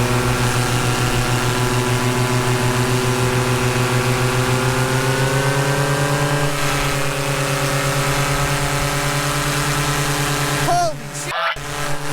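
A large engine on a paramotor runs near and loud at full throttle during a climb, a steady droning roar whose pitch rises partway through, with a brief dropout near the end.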